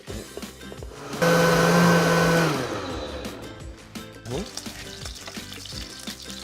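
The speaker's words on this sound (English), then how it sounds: "Just in a blender, right there." A loud blender purees apples, whirring for about a second and a half, then winds down, followed by clattering and rustling sounds.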